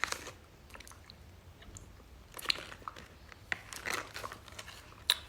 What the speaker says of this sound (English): So I'm eating this cookie.